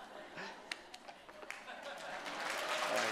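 A church congregation claps during a Sunday worship service, a scattered patter that grows into fuller, steady applause while a speaker talks over it.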